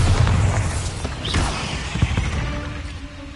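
A Bombarda explosion spell in Hogwarts Legacy goes off as a deep, rumbling boom with crackling debris that decays over a few seconds, close and loud.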